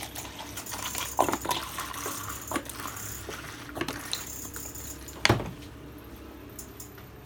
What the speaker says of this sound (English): Lovely filter water straight from the bottle.